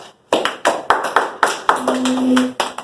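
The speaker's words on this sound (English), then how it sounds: "Let's give a round of applause for these people." Sparse, uneven clapping from a small audience welcoming student presenters, a handful of separate claps and short bursts rather than a full ovation, close and moderately loud.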